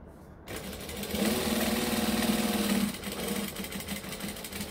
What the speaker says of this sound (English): And we're gonna stitch, back stitch.